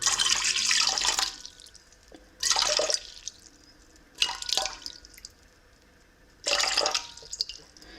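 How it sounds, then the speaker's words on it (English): Lukewarm water is poured into sourdough pretzel dough in several separate bursts of splashing pour, each a second or so long, with quiet gaps between them. "we're gonna add 175 grams of lukewarm water."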